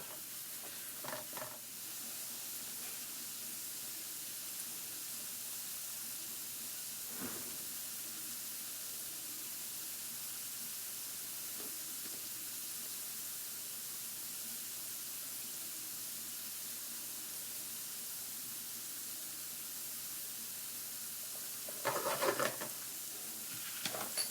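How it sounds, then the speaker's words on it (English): Onions sweat in a pan for risotto, giving a soft, steady low hiss that runs throughout, broken by a few brief stirring scrapes and clinks. "You just want them to sweat and let the sugars come out of the onion."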